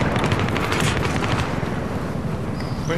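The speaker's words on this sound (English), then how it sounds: "Where are they getting shot from?" Battlefield 3 gunfire on the Caspian Border map comes as dense, sustained rapid bursts mixed with heavier booms that fill the scene loudly, with no voices over it.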